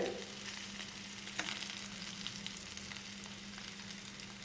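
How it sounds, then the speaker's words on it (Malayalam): Dried unakka mullan fish fries in hot oil with garlic and dried chillies, giving a steady, fairly quiet hiss and crackle that holds without pause and without voices. "ആ ഉണക്ക മീൻ ഇങ്ങനെ ഫ്രൈ ആയി കിട്ടുന്ന സമയത്ത്"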